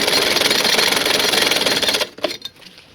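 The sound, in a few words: sewing machine stitching elastic onto saree pleats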